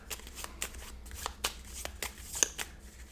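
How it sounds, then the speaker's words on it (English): A deck of Dark Souls card game cards is shuffled with quick, crisp riffles and snaps in an uneven rhythm, close and clear against a quiet room. "And shuffle, shuffle, shuffle."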